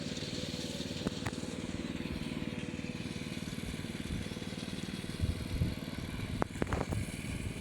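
A rice combine harvester cuts a rice field, its engine a steady, rumbling drone with a rhythmic mechanical chatter, a few sharp knocks and clatters near the end.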